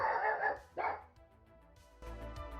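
A pug indoors barks at a train passing outside, with two or three sharp, close barks and then a lower grumble.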